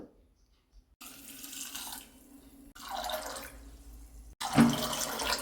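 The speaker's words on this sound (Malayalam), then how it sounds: "ഒരു രണ്ടര കപ്പ് വെള്ളം ഒഴിച്ചിട്ടുണ്ട്" Water is poured into a pressure cooker holding soaked, washed chickpeas, three separate bursts of splashing and pouring, close and moderately loud, no talk.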